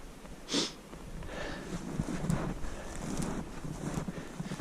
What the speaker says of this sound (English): Bit windy today.